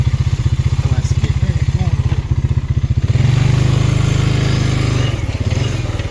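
Four-wheel-drive ATV engine riding through woods after a wind and rain storm: a close, rapid, pulsing putter that swells louder for a couple of seconds mid-ride, then settles back to a steady chug.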